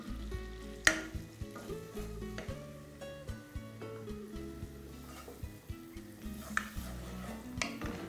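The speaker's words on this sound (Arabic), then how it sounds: "نديها تشويحه صغيره، مش عايزين لون، عايزين تشويحه بس." Chopped onion softening with a pinch of salt in a pot, ahead of pumpkin soup, giving a faint continuous sizzle broken by repeated clinks and scrapes of a utensil against the metal, close and without talk.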